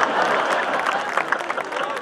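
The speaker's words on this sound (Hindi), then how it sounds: "तुम भी ताली बजाओ" Audience applause at a Hindi kavi sammelan poetry gathering in Dehradun, a dense, steady wash of clapping and crowd noise throughout, close and loud, with voices mixed in.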